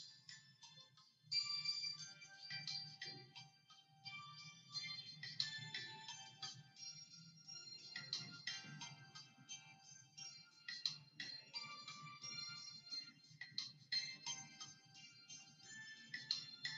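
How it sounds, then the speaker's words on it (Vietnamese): Background music played in a classroom during an art lesson, a steady bed of tones with a bright melodic line running the whole time at moderate level, with no talking over it. "cô sẽ cho các em nghe nhạc"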